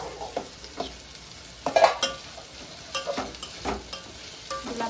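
Papaya cooking in sugar syrup in a pan, stirred with a spoon in irregular scraping strokes and light clinks, over a faint bubbling sizzle, close and without talk.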